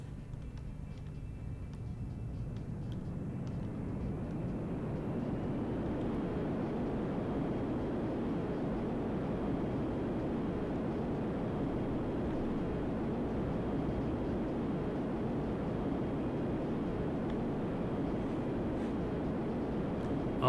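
Steady propeller-plane engine drone in SimplePlanes, a heavy aircraft whose engine is underpowered, holding a constant mid-low roar for the full stretch with no talking.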